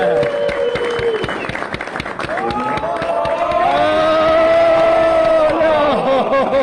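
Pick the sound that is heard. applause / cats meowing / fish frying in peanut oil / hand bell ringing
applause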